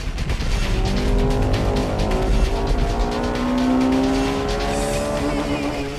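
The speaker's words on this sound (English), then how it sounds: "Here comes the INTEGRA R." A Honda Integra Type R races through tight turns on the Maze circuit, its engine revving loud and close as it holds first gear out of corners, with tire squeal and another car's engine blending in throughout.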